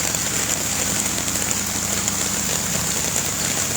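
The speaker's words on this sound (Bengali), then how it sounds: "প্রচুর পরিমাণে বৃষ্টি।" Heavy rain pours steadily on a flooded road at Chandra, Kaliakair, Gazipur, a dense continuous hiss with a low engine-like drone underneath, and no voices.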